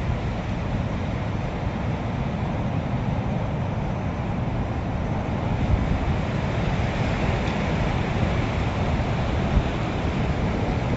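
Strong wind buffets outdoors in a forest setting, producing a constant low, rough roar with slight gusting swells and no voices.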